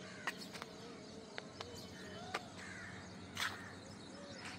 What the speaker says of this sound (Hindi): सुबह सुबह चिड़ियों की चहचहाट अलग ही सुनाई देती है।